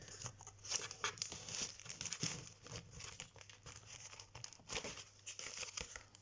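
Paper is folded and creased into small bellows, giving a quiet, close series of soft crinkles and papery rustles in uneven bursts, with no talking.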